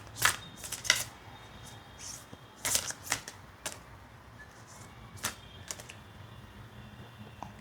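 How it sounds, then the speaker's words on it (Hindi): A deck of tarot-style reading cards is shuffled by hand in a few short, crisp riffling bursts with quiet pauses between, close and fairly soft. "Now we will shuffle it again"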